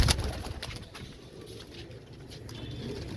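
Soft pigeon cooing at close range from Teddy pigeons, with a brief flutter at the start and low murmuring calls continuing throughout.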